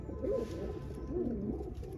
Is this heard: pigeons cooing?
yes